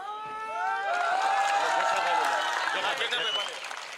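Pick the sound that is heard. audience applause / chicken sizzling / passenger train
audience applause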